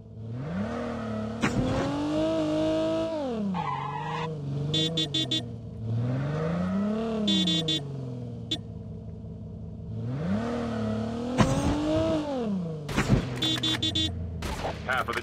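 A vehicle in Call of Duty Mobile revs and accelerates in repeated rising and falling engine surges, mixed with bursts of gunfire and sharp in-game effects throughout.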